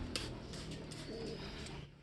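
Soft pigeon cooing in the background, a low murmuring coo repeated over steady ambient noise, fairly faint and distant.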